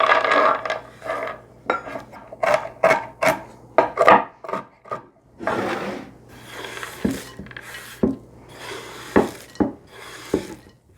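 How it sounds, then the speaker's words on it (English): A knife roughly chops dry roasted almonds on a cutting board for granola, giving a close series of sharp, uneven knocks and crunches in irregular bursts with brief pauses, with no voices. "I also have a half a cup of dry roasted almonds that I'm just going to roughly chop up here"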